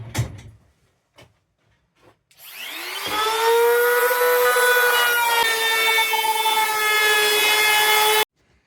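A router cutting a round-over profile along the edge of ash wood for a desk starts with a few soft taps, then spins up into a steady, loud high-pitched whine that holds for about five seconds before stopping abruptly.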